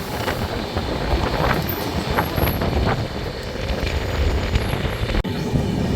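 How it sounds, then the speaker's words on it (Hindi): The Avadh Express, a passenger train, rushes past on the railway in a continuous loud roar of wheels and wind buffeting, steady throughout with no voices. "आई थिंक अवध एक्सप्रेस है।"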